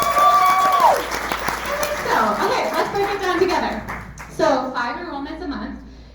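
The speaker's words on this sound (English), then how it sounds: "let's hear you clap if that sounds like a good idea" Audience applause at a business presentation, steady clapping rising under a speaker's voice with some chuckling mixed in.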